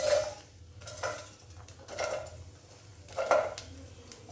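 Chopped tomatoes, chilli, a little ginger, garlic and onion dropped into a cooking pot for a greens gravy, with several soft clattering knocks of metal utensil against the pot spread through a quiet kitchen, no talk.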